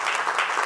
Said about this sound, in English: y'all give Doctor a round of applause